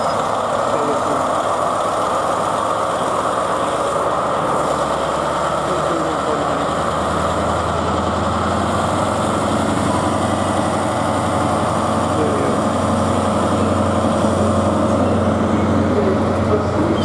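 A GWR Class 43 diesel train engine idles at a station before departure, a loud, steady droning rumble that holds constant throughout, with a voice speaking over it.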